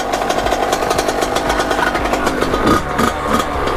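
A Kawasaki KX80 dirt bike engine runs close by, a loud, steady rapid two-stroke putter with a slight swell in revs near the end, alone with no talk.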